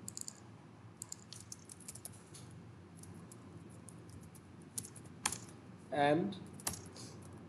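Scattered keystrokes on a computer keyboard type a search, light irregular clicks with pauses and a brief louder burst of tapping near the end, under a low room hum and a faint word of speech.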